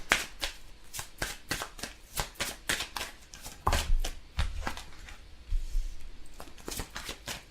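Tarot cards being shuffled by hand, a steady run of crisp riffling and slapping bursts close up with no talking.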